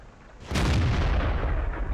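A tank cannon fires in the World of Tanks game, a single heavy boom that erupts suddenly and rolls on with a thick, low rumbling tail.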